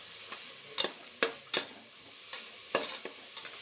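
Cashews stirred in a hot pan, with a steady soft sizzle broken by several sharp scraping stirs of a spoon against the pan, close by and with no talking.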